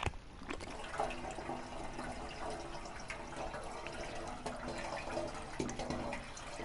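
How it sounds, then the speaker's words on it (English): Water running into a jerry can in the video game DayZ, a steady watery gush and trickle that carries on throughout at moderate level, with no voices over it. "I think we're filling up the jerry can by the sound of it."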